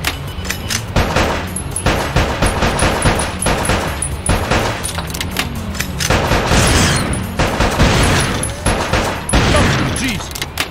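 Rapid gunfire in the video game Bad Boys 2 - Miami Takedown, dense bursts of automatic shots and booming impacts firing loud and nearly nonstop, with voices shouting over the action.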